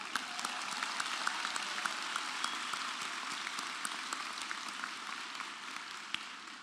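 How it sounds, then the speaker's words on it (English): Applause for the singer at a college fall commencement ceremony for hotel and restaurant management, a dense, sustained round of many hands clapping, even and steady for several seconds with a few sharper claps standing out. "can we get a quick round of applause for the singer?"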